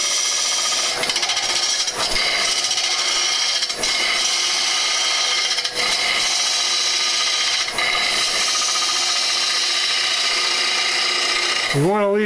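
A wood lathe spins a lamp base while a smaller turning tool cuts, giving a continuous dense scraping, rasping whir with brief dips, ending in a short rising squeal.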